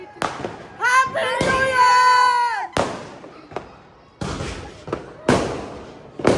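New Year's midnight firecrackers go off in a series of sharp, loud bangs on a road, with an excited voice shouting over the early blasts.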